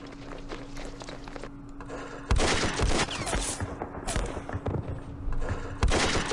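Gunfire from an enemy unit in the wargame Campaign Series Middle East: a few sharp shots and bursts cracking out over a low steady rumble, growing denser and louder partway through.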